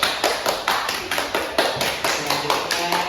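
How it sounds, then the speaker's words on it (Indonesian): A small group at an HIV/AIDS health education session claps in a quick, sharp, rhythmic pattern, close and fairly loud, with the claps sounding almost like taps. "Kasih tepuk tangan."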